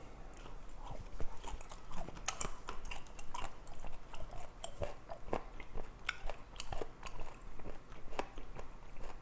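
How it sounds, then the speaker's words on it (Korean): Someone chews fermented Heuksando skate dipped in red chojang sauce in close-up, with soft, irregular wet crunching and smacking bites at a quiet level and no speech. "홍어를 이제 초장에 찍어서"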